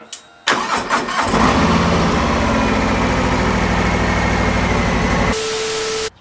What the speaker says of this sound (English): We're gonna turn on the bike so you guys can hear the difference from the stock exhaust